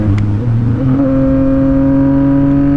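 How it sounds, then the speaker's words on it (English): Yamaha MT-07 motorcycle engine revving as the throttle is tapped, a loud close rumble rising into a steady higher drone after a quick blip. "I'm just tapping the throttle right there"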